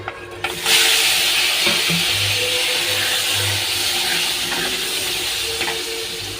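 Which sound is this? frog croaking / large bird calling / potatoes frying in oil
potatoes frying in oil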